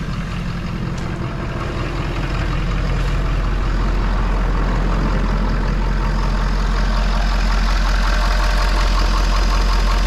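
A Ford F-350 pickup engine idles steadily up close, low on coolant with the EGR deleted, a continuous low rumble with a slight knocking texture, holding even throughout with no talking.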